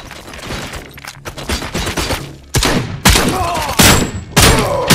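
Heavy gunfire in RoboCop Rogue City comes as loud bursts and booming shots, with thuds and crashes between them and a few voices speaking underneath.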